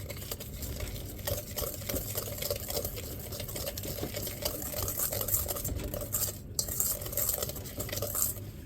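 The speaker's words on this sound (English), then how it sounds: "We've added our milk, and we'll mix this up" Thin strawberry cobbler batter with milk being mixed in a bowl, a steady rapid whisking and stirring with soft clinks of utensil against the dish, fairly quiet and close, no talk.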